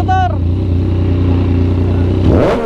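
A motorcycle engine, either a Honda Rebel 500 or a Yamaha MT-09, idles with a steady throbbing rumble close by, then revs sharply at the end; a short voice is heard at the start.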